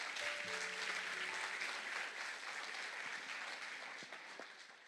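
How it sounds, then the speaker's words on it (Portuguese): A church congregation applauds during a morning worship service, a steady wash of clapping hands heard from a distance that continues without a break and fades slightly toward the end. "Você pode aplaudir ao Senhor?"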